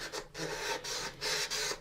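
Sandpaper rasps back and forth across the plastic hull of an AMT U.S.S. Enterprise model kit during paint prep, a close, quiet run of rhythmic scratchy strokes heard alone.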